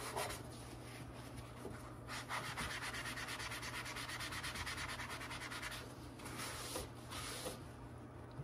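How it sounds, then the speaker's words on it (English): A magic eraser rubbing over an Atari Paperboy arcade control panel overlay, a steady close scrubbing hiss in rapid back-and-forth strokes, continuous with brief pauses, alone with no talk. "Go a little too far with this magic eraser."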